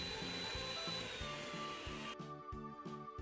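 Eggs are beaten one at a time into almond cake batter with an electric mixer, a steady droning whir with a rhythmic low thumping that shifts in tone near the end.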